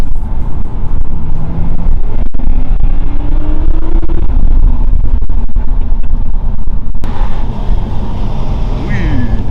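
An Audi R8 RWD drives along with a loud, continuous engine and road roar, a gear change shifting the tone partway through.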